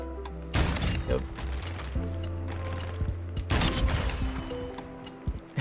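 Gunfire in Call of Duty: Modern Warfare 2 during a sniping match against bots, with loud, close bursts of shots around the half-second mark and again near three and a half seconds, separated by quieter in-game background noise.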